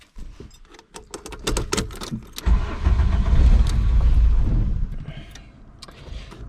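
A car engine being cranked after a litre of concentrated coolant was added: broken clicks and sputters first, then a loud, steady rumbling run that fades toward the end.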